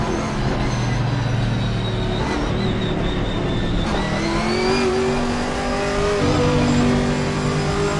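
A Chevrolet Camaro race car in Assetto Corsa Competizione revs hard on the formation lap, its engine rising and falling through repeated throttle blips and gear changes, loud and close throughout with no talk.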